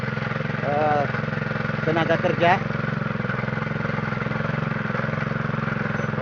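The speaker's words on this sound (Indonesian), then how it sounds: "Sekarang kita sementara mengolah lahan dengan alat mesin kultivator untuk meringankan" A power tiller cultivator working farm soil: a steady, rhythmic mid-pitched engine drone runs throughout at constant level, with a person talking briefly over it.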